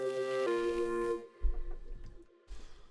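A bright synthesizer lead holds sustained tones, then cuts off into short, punchy electronic hits and a few lower thumps.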